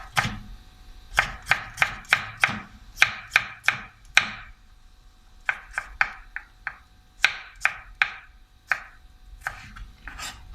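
A knife chops bell pepper (shimla mirch) on a cutting board in a home kitchen, a series of crisp, close taps in quick bursts with short pauses between groups.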